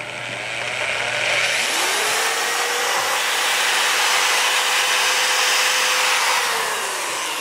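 A power drill whirs steadily for several seconds while fitting a 280 radiator and fans in a Lian Li PC-A75 full tower PC case, a high continuous motor whine that rises, holds, then winds down; no talking.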